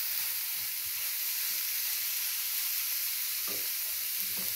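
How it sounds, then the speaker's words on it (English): Omena fish sizzle continuously in a hot pan, a quiet, even frying hiss broken by a few light stirring knocks, with no one speaking. "Frying up."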